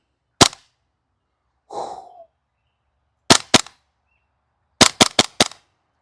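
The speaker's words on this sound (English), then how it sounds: "And we'll just give it a fire." A KWA TAC-9 airsoft gun fires sharp, crisp pops at close range: a single shot, a pair, then a quick string of four, separated by silence with a brief mechanical rustle between.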